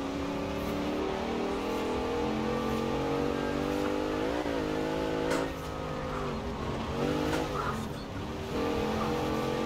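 A 2014 Jeep Grand Cherokee in Forza Horizon 4 races hard, its engine droning and revving with rising and falling pitch through gear changes, with faint tyre noise as it slides through corners.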